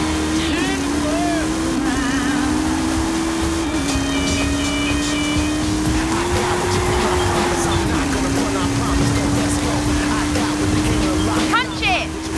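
A Hot Wheels car in Forza Horizon 5 gives a loud, continuous engine drone whose pitch holds steady with small shifts, under rushing wind and a constant game soundscape.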